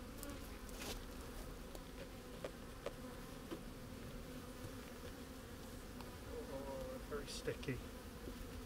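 Honey bees swarm around an opened beekeeping hive, a steady dense buzz with no speech filling the scene throughout, with occasional louder passes from individual bees flying close by.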